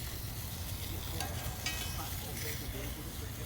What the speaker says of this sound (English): What you hear in the background is the sizzling of the bratwurst, the rocket stove